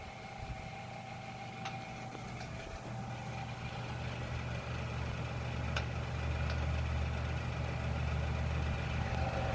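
A 1960s Knapp & Monarch 10-inch table fan runs with a low, steady motor hum and faint rattling, quiet and gradually growing a little louder, with no voices.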